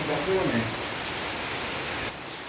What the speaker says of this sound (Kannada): ಮಳೆ ಸೌಂಡ್ ಜೋರಾಗಿ ಕೇಳಿಸ್ತಾ ಇದೆ ಅನಿಸುತ್ತೆ.